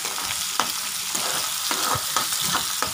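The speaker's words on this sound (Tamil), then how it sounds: "இது நல்லா ஃப்ரை ஆகட்டும்." Ingredients for a Chettinad fish curry fry in a hot pan with a steady, close sizzle, broken by several soft scrapes of stirring.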